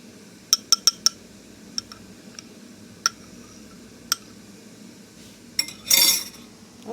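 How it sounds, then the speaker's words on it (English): Utensils clink sharply against a bowl while pickling liquid for corn relish is mixed, with several spaced metallic taps, then a short cluster of clinks and a brief swishing burst of whisking near the end, quiet and close. "I'm going to get this mixed up, and then I'm going to get it into our pot."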